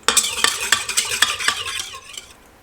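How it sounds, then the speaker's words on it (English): A spoon stirs melted butter into a bun dough mixture in a bowl, making about nine quick, rhythmic scraping strokes that fade out near the end. "Give it a mix."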